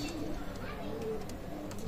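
Teddy pigeons, a Pakistani breed, cooing softly in a loft, with low murmuring coos over a steady background hum and some voice-like sound mixed in.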